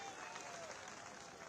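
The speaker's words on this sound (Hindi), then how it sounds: "जोरदार तालियों से आप सभी स्वागत करें।" Crowd applause at a political public rally in Chhatarpur, Madhya Pradesh, a steady, dense wash of clapping that holds at an even, moderate level throughout the short stretch.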